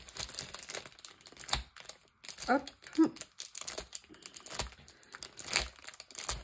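Close crinkling and ripping of plastic packaging comes in bursts, with tape tearing and a few short spoken interjections mixed in.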